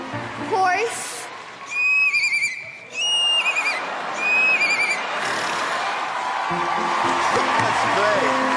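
A young girl imitates a horse neigh with her voice, giving a couple of rising and falling whinnying calls close to the mic, with a little background chatter around them.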